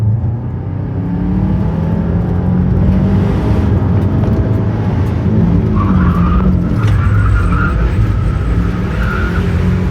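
A 300 hp rally Subaru sliding through a drift, its engine held under heavy throttle in a steady, close roar as the tyres skid and squeal.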